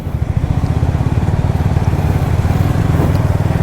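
A Yamaha FZS V3 motorcycle being ridden, its engine droning steadily and loudly up close with a constant low-pitched rumble throughout.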